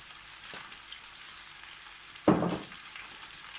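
Pasta sizzles in a pan with olive oil under a steady frying hiss, with a single louder scrape of stirring partway through.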